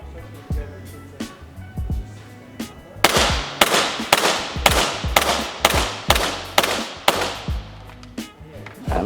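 A WE Tech gas blowback airsoft pistol fires green gas through a chronograph, about a dozen sharp cracks with slide clacks in a steady rhythm, close and loud, after a few softer handling clicks at the start.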